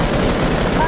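Rapid gunfire from a Fortnite match rattles in a dense, continuous burst, loud and close with no pause.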